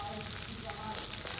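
Lightly chopped onion and garlic frying in a pan, a steady soft sizzle throughout with faint stirring scrapes.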